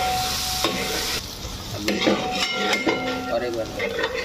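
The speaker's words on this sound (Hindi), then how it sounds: "स्लो फायर में फ्राई करके पूरा ब्राउन कलर होने चाहिए," Mashed onions fry slowly over a low flame for a chicken curry, a steady close sizzle broken by repeated scraping and clinking of a spoon stirring in the pan.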